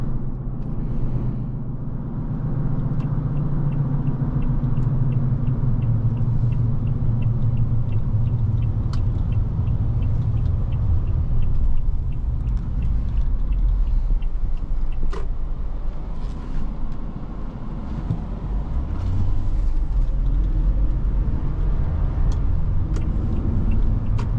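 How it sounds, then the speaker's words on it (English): A 2020 Toyota Sequoia TRD Sport's V8 rumble drones steadily from inside the moving vehicle. The low tone rises and falls a little as it drives, with no voices over it. "Their classic V8 sound."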